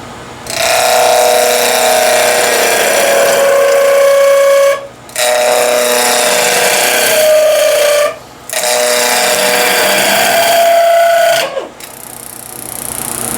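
A wood lathe roughs out a twig pot from maple, walnut and zebrano, giving loud, sustained tonal whines and rattling cuts in three long passes broken by short pauses, with no voices.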